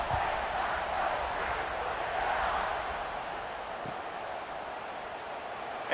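A simulated stadium crowd at a college football video game, USC at Ohio State, buzzes after a touchdown drive as the kickoff unit takes the field. The steady, fairly faint roar holds evenly with little variation.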